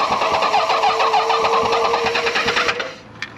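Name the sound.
40-year-old motorcycle engine starting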